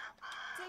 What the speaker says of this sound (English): I hear the crow in the background,